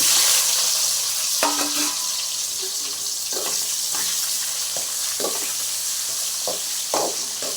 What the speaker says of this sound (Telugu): కొంచెం జీలకర్ర వేసుకొని అవి వేసేటప్పుడు కట్ చేసుకున్న కాకరకాయ వేసేయాలండి